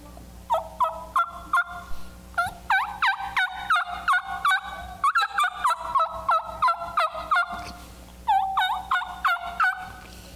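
A raspy bat wing turkey call produces rapid series of clucks and yelps imitating a wild turkey, loud and close, in repeated bursts with short pauses and no talking.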